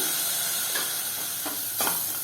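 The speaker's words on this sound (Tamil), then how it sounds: "இஞ்சி பூண்டு பேஸ்ட்டு சேர்த்துக்கலாம்." Ginger garlic paste fries in a pan over a low flame, giving a loud, steady sizzling hiss throughout, with a few brief louder spits and stirring scrapes and no talk.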